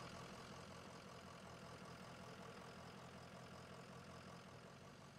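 A snow plow truck's engine idles in the Snow Plow video game with a continuous, even, low rumble that stays close and steady throughout, with no voices.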